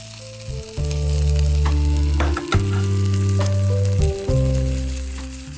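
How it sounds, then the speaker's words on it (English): Cumin, black peppercorns, ginger and curry leaves sizzling in hot ghee for a tadka: a loud, crackling hiss over strong sustained tonal tones, with a few sharp pops and brief dips, no talking. "heat ghee and add the cumin, black peppercorns, ginger, and curry leaves"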